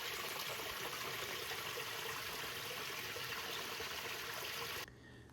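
Clear creek water runs through a small mountain canyon in Arizona, making a steady, close rushing and trickling wash that cuts off abruptly near the end.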